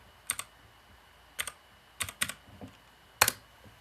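Someone types on a computer keyboard in a quiet room, a few sparse clusters of crisp key clicks spaced out over a few seconds, close and fairly faint.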